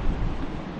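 Wind gusting on Santa Monica ocean pier, a close, low rumbling buffet against the microphone, steady and dull with no talk over it.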